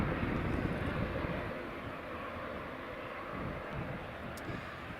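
An Airbus A321neo jet descending toward Edinburgh Airport, its steady broadband engine roar holding loud and even throughout with a slight easing after the first second.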